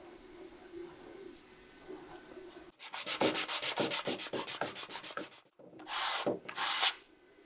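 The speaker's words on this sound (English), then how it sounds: "I am going to sand it and see how this goes" Sandpaper rasps in quick, rhythmic back-and-forth strokes over the rock-hard old finish of a 1939 wooden radio cabinet, close and loud, then pauses before two longer, heavier passes.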